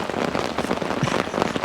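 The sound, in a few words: heavy rain falling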